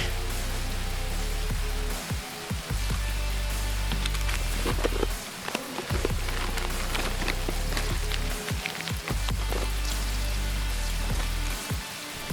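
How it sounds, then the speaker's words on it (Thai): Rain falls steadily in the Escape From Tarkov game world, an unbroken hiss of drops with scattered sharper patters and occasional brief dips, heard alone without talk. "ฝนมันตกไง"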